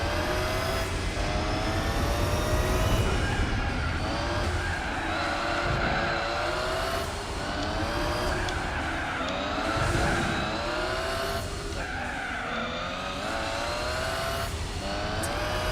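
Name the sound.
race cars passing in video game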